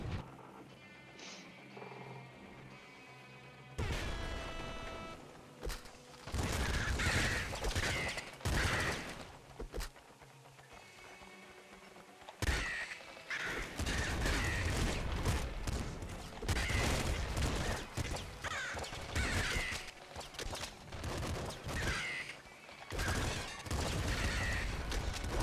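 Rapid SMG fire in the top-down shooter Nuclear Throne bursts repeatedly in loud, dense volleys mixed with explosions and impact crashes, broken by short pauses over a quieter game soundtrack.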